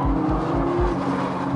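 A 2013 Nissan GT-R Black Edition cornering hard under throttle, its engine droning loud and close with a steady pulsing low rumble and a sustained tone, no talking.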